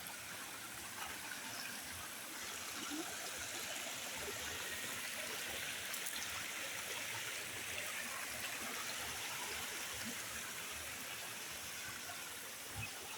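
A forest stream carrying water down from Antipolo, rushing and gurgling in a steady, dense wash that stays close and even for the whole stretch, with no voices.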